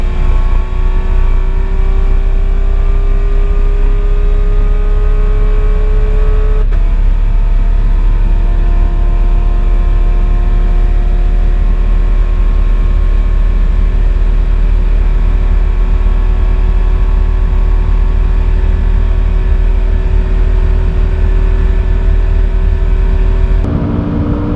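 A McLaren 570S accelerates hard toward 200 mph, its engine droning loud and steady with tones slowly climbing through long gear pulls, one brief shift break partway, constant road and wind roar underneath.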